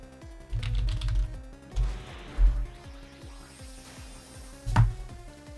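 Steady keyboard typing to jot down notes, a run of light, even clicks with a few harder keystroke thumps standing out, close and clear with no talk over it.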